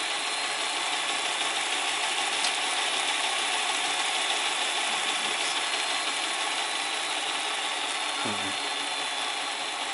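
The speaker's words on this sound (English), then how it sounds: "Yes, my rolling road's a bit worn out. The loco is a lot smoother than that, honest." A model locomotive runs on a worn rolling road, giving a continuous loud mechanical whirr and rapid ratcheting gear chatter at a steady pace for the whole stretch, with no talk.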